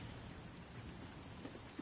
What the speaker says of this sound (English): Ooh, rain. First time I've seen rain in the game.